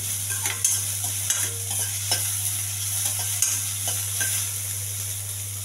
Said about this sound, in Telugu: కొన్ని ఉల్లిపాయలు, దోరగా ఎగించాలి.